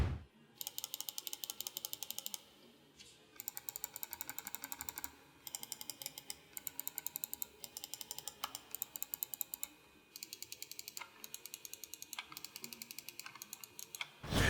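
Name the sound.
computer mouse buttons clicking during a sound test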